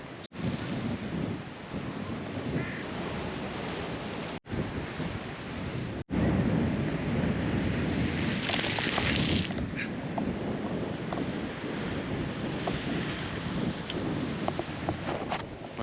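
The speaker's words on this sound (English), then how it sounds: "Got wet from the waves." Sea waves surge and crash against the shore at Moda in Istanbul during stormy weather, a loud, continuous roar with heavy wind buffeting the microphone and sharp dropouts, no voices.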